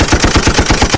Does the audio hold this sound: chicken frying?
no